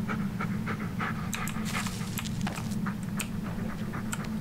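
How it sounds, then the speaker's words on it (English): A dog pants rapidly and steadily in the Blair Witch video game, close and continuous, with a low hum and scattered light pattering noises behind it. "Yeah, good dog. Good boy."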